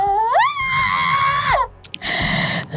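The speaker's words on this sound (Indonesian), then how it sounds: "jangan teriak-teriak" A person screams loudly and close, one long rising wail that holds steady and then drops off, followed by a shorter strained vocal cry.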